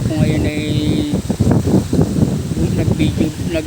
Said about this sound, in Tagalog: Hangin lang ang meron tayo nakakaranas, ngunit hindi ganun kalakas.